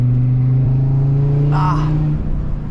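An Audi R8 engine idles with a deep, steady drone, then revs briefly and settles back, heard close up from inside.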